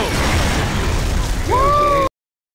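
A grenade blast in the video game Gears of War: Judgment erupts loud and close, layered over dense battle noise, with a rising tonal whine near the end.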